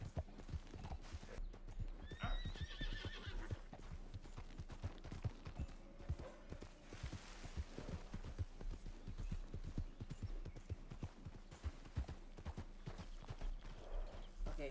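Galloping horse hooves clip-clop in a steady, fast rhythm throughout in the video game Red Dead Redemption 2, with occasional whinnies and a voice talking over the hoofbeats.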